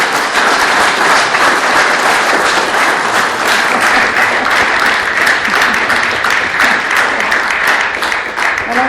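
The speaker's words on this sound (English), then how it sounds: "Let's clap really, really loud." An audience at a candidate forum claps loudly and steadily, a dense sustained roar of many hands close by that carries on without pause.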